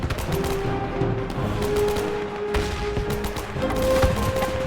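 Sustained gunfire crackles from cover in the Men of War 2 video game, rapid machine-gun bursts and rifle shots layered into a continuous fusillade at moderate loudness.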